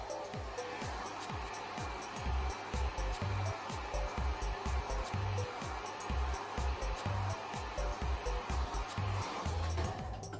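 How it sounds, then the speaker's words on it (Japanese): A salon hair dryer blows steadily on hair held up with a brush to add volume, a continuous airy roar at moderate distance with faint rhythmic low thumps running underneath. "この状態でドライヤーを当てていきます。"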